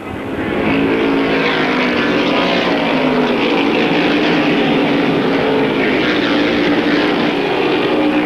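A tight pack of race cars drones steadily around an oval raceway at a 1994 season finale, a loud continuous engine roar heard from a distance, with no voices.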